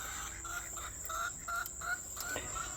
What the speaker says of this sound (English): there's another chicken out, and I don't know if I can get her back in.